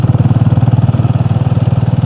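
Motorcycle engine on a potholed shortcut road between Bavnadi and Lanja, running steadily with a close, loud, rhythmic pulsing throb and a little rattle throughout.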